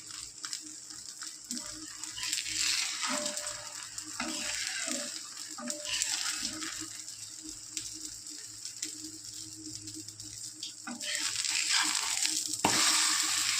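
Carrots sauté briefly in a pan for wheat dosa, a soft continuous sizzle with repeated stirring and scraping, growing louder and crisper toward the end.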